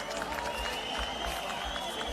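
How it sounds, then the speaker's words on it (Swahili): An audience at a political rally in Ukambani keeps up steady applause, with women's high ululation rising over the clapping and crowd noise. "Tupigeni makofi na vigelegele kina mama."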